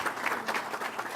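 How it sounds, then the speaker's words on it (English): An audience at a city council meeting applauds steadily, a dense patter of many hands clapping at an even level for the whole moment. "let's give them a round of applause for the good work they do"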